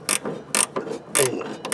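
A 17mm wrench ratchets on a bolt at the rear shock mount of a classic Porsche 911, giving a few sharp bursts of clicking with short pauses between them, up close with no talking.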